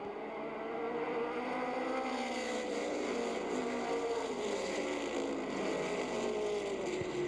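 Race cars roar around an oval track, their engines droning loud and steady in a dense, overlapping wash of engine noise throughout, with a faint broadcast voice beneath.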